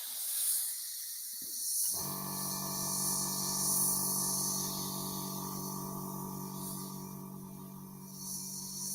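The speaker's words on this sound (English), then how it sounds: "I'm getting a fair amount of spatter on the edge of the airbrush" An airbrush sprays thick, unthinned model paint with a continuous close hiss over a steady compressor hum, without talk.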